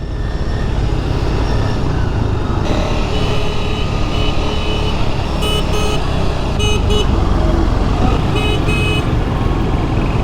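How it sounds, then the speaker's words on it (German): Car horns honking amid dense street traffic in Pakistan, with steady loud road and engine noise throughout and several short bursts of tooting standing out, including a cluster of repeated honks near the end. "Wieso hupt er so viel?"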